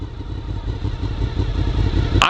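A go-kart engine runs beneath a fabric bull float built on its frame, a close, low, uneven rumble with a steady mechanical chug that ends on a short sharp clatter.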